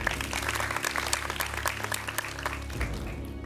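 A studio audience on a quiz show claps in continuous, dense applause that stays at an even, fairly loud level throughout, with no talk over it.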